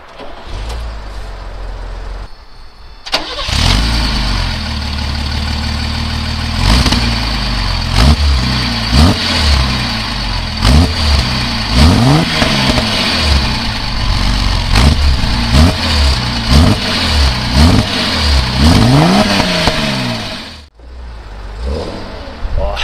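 A 1967 Mercedes 280 SL Pagode engine cranks and starts, then idles and is revved repeatedly, with loud rising and falling blips close by before it cuts off near the end.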